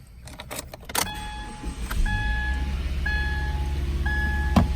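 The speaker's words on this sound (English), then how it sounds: "Start the car up." A 2017 Subaru Crosstrek 2.0i Premium SUV starts up: a few clicks and chimes sound, the starter catches, and the engine settles into a steady low idle as warning chimes repeat over it.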